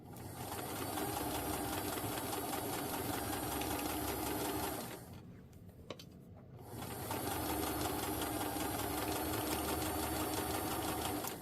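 Sewing machine running steadily while stitching alongside a basting stitch on a New Look 6603 garment, a continuous close mechanical whir that pauses briefly midway before resuming at full pace.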